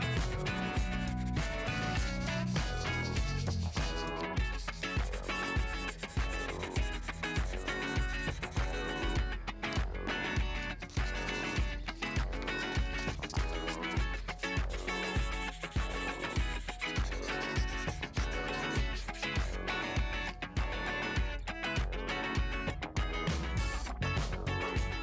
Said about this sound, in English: I go over it again with 1500 grit to further smooth the surface.